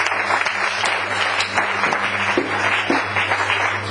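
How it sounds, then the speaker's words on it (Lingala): A church congregation applauds loudly and steadily, a dense wash of many hands clapping together with some voices mixed in. "Acclamez très fort le Seigneur."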